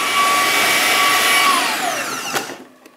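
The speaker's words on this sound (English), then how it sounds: "Blend it a little bit longer." A blender whirs steadily at high speed through a potato and pea mixture, then winds down with a falling pitch and stops, leaving a brief knock at the end.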